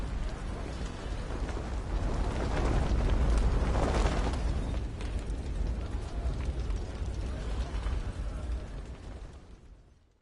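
Fire attack in a video game: a loud, dense roar of flames and rumbling explosions that swells, holds steady for several seconds, then tapers off.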